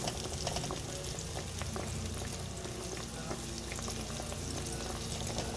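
Eggplant slices coated in flour fry in hot oil, a dense, steady crackling sizzle that runs loud and continuous throughout, with no voices over it.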